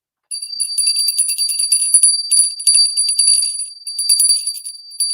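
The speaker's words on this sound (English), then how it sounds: "Where's my bell?" A small bell rings repeatedly in quick, bright jingling bursts with short pauses between them, loud and close, with no talking.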